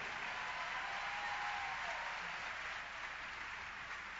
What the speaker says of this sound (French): Venez, applaudissez-la.